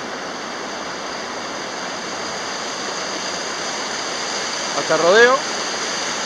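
The Río de las Peras flows with a steady, loud broadband rush of water filling the scene, and a person speaks briefly over it near the end.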